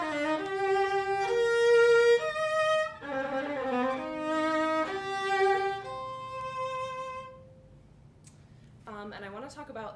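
A solo viola plays a short Mozart passage of sustained, connected notes that rise and fall, then fades to quiet before a brief final phrase.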